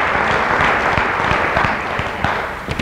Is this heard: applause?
yes